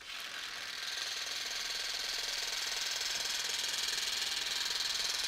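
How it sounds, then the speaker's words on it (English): A massage gun runs against the triceps, a steady close buzzing percussive whir holding constant for several seconds without speech. "So let's try it out."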